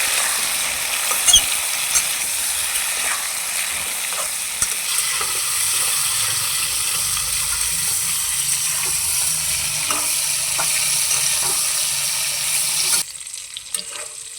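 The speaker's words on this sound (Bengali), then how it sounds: "এখন পটলটাকে ভালোভাবে ভেজে নেব, আর গ্যাসের জালটাকে আমি মিডিয়ামে রাখবো" Pointed gourd (potol) frying in oil over a medium gas flame, a steady close sizzle with light stirring that drops to a quieter hiss near the end; no one speaks.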